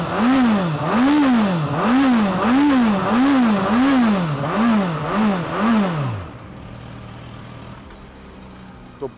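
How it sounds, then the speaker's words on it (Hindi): A 2022 Suzuki Katana's inline four-cylinder engine revs hard through its exhaust, with about eight rhythmic rise-and-fall blips close up, then cuts off abruptly into near quiet with a faint click at the end. "अब इनलाइन 4 सिलेंडर की बात हो रही है और आपको एग्जॉस्ट नोट ना सुनाया जाए वो नाइंसाफी होगी"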